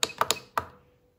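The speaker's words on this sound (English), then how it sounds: "you have to click twice on that sys button" Plastic button clicks on a Radiomaster TX16S radio transmitter: a quick cluster of three close, light taps and then one more, dry and near, with no talking.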